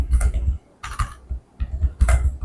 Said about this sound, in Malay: Nak keyboard yang silent click? Keyboard ni silent click.